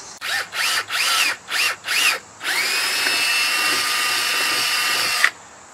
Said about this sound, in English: this is a 5/16 drill bit